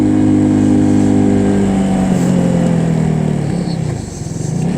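A motorcycle engine pulls steadily uphill in third gear on a mountain road between Chilas and Babusar Top, loud and close, its droning pitch sagging and dipping near the end as the load increases.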